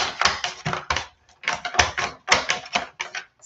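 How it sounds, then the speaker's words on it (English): Vegetables being sliced on a mandolin in a kitchen: a fast run of sharp, close rasping strokes in quick rhythmic bursts with brief pauses, loud and without talk over it. "Using the mandolin means that it cuts, I get them cut so much faster."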